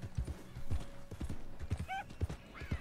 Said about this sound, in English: It's literally been just me riding my horse around the map.